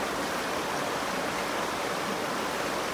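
Steady, continuous splashing rush of water being poured into a jar, close and even in loudness throughout with no talk.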